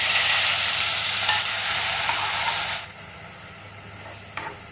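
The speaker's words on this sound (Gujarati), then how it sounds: "હવે બનાવેલી આપણે ડુંગળીની પેસ્ટ એડ કરી દેવાની." Onion paste hitting hot oil in a pan already tempered with mustard seeds, cumin, ajwain and hing, giving a loud, steady sizzle and stirring that drops abruptly to a softer hiss partway through, then a brief clink.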